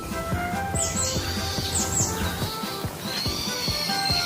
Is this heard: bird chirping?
yes